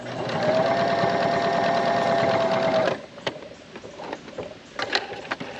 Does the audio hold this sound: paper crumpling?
no